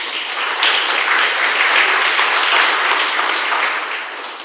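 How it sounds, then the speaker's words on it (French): An audience claps in sustained, dense applause at a tourism and economy event about Madagascar, loud and even throughout before tapering slightly at the end. "Vous pouvez l'applaudir"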